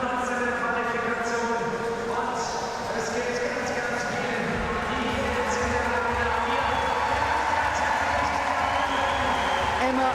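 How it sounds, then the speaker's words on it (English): A large gymnastics arena crowd in Munich roars for a home European champion at the World University Games, a steady, dense wall of cheering and applause that holds loud and continuous throughout. "as the crowd roars for the champion of Europe from 2022 in her country, in Munich."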